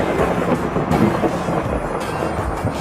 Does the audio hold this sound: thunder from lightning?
yes